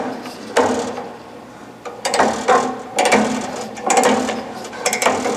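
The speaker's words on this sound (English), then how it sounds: "first step is to loosen the blade tension." A bandsaw's blade tension mechanism being loosened, giving repeated ratcheting, grinding mechanical turns in several bursts with brief pauses, loud and close, no talking.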